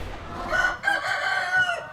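Chickens clucking and a rooster crowing nearby in Palmer, Alaska, a busy overlapping chorus of hen calls with a short crow in the middle.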